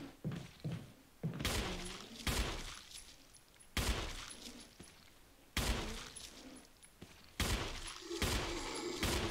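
Repeated bursts of gunfire from the Resident Evil video game during Jill's campaign, several loud sharp shots in close succession with short gaps, a fusillade against an enemy, no talking.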